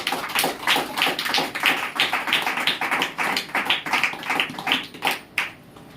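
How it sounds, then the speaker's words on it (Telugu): Church congregation clapping loudly together in a steady, rapid, continuous rhythm of many hands, filling the whole stretch without voices over it. "గట్టిగా చప్పట్లు కొట్టండి."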